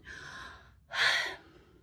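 A stifled yawn: a short breathy intake, then a louder, muffled exhaling yawn, close and alone with no words.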